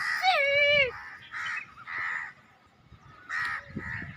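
Crows give a series of loud, harsh caws close by, in separate bursts with short pauses between calls, as a hawk appears nearby.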